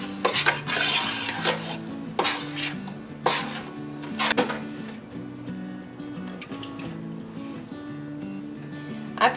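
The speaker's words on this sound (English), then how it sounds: "I'm going to stir this in really well and bring it to a boil." A spoon stirs sugar into jalapeno pepper jelly in a pot, scraping and clinking against the metal in repeated strokes, some sharper knocks standing out over a faint steady hum, with no voices.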